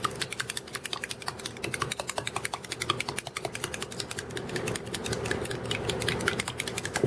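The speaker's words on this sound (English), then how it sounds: "You're going to need to take your eggs and you're going to need to whisk them up real good." Eggs are whisked briskly in a bowl, producing rapid, regular clicking and tapping strokes that run continuously at close range with no talking over them.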